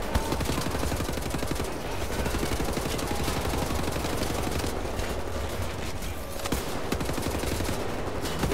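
Enemy gunfire in Wolfenstein: The New Order rattles in sustained rapid bursts of automatic shots, steady and fairly distant, with no voices over it.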